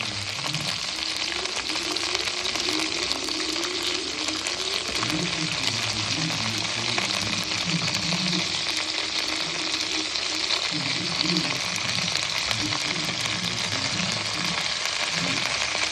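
Five or six green chillies frying in hot oil, a loud, dense, unbroken crackling sizzle like heavy rain, close to the pan, with faint low voices underneath.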